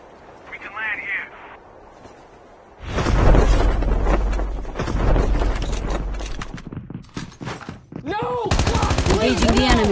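Bursts of Call of Duty Mobile gunfire in a Battle Royale match on Alcatraz: a faint effect at first, then loud sustained automatic fire with rapid shots, and later a whooshing sweep and more steady firing close up.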